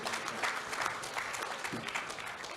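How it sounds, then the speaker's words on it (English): Applause from a conference audience at a summit, a steady wash of many hands clapping at moderate distance, sustained without pause and with no voices standing out. "So can we have a bigger round of applause for this?"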